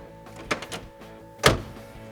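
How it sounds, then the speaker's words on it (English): A 1970 Chevelle SS454 door shuts with a few light knocks followed by one solid, close thunk, then quiet. "Look at the fit of this door."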